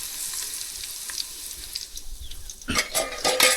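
Garlic paste drops into hot oil in a pan and sizzles steadily, then crackles and spatters more loudly near the end as the pan is stirred, close and without talk.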